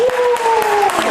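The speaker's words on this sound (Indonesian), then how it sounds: "Tepuk tangan." An audience claps at the opening of an Indonesian morning talk show, bursts of fairly loud, close applause while a voice carries a tone over it.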